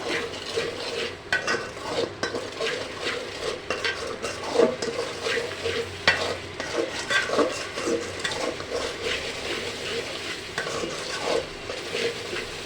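Radish and fish curry is stir-fried in a pan, with repeated spatula scrapes and metal clinks over a low sizzle, close and fairly loud throughout, without speech.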